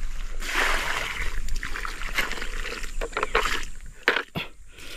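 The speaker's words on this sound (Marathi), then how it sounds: "पाणी टाकू आपण." Water poured from a bucket onto a small coconut palm in a mango orchard, a steady splashing gush with uneven surges and a few louder sloshes near the end, close by and without speech.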